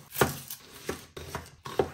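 A knife chops carrots on a cutting board in four crisp, evenly spaced strikes, close and fairly quiet, with no talking.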